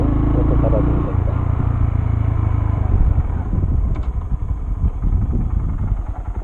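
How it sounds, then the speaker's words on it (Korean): A manual motorcycle engine rumbles at close range through a shift into second gear, its steady drone dipping briefly as the clutch is pulled and then building again with uneven throttle pulses. "기아를 올리는 방법은 1단과 마찬가지로 출발을 일단 하고 그러다가 클러치 다시 잡고 스로틀 풀었다가 올리고 클러치를 놓으면서"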